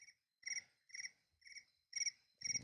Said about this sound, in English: That's your phone sound? A cricket?